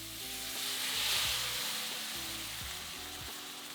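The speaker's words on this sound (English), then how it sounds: "Now add in the reserved marinade and bring to the boil." Teriyaki marinade poured into a hot pan with softened stir-fry vegetables and beef sizzles loudly as it comes to the boil, a steady bright hiss with a low hum underneath and faint clinks; no speech.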